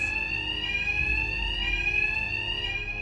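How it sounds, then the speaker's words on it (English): An alarm rings in Batman: Arkham Knight, a loud, steady electronic tone that holds without pause for the whole stretch. "My attacks will be covered by the noise of the alarm."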